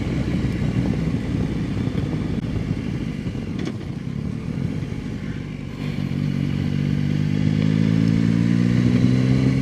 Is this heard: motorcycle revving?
yes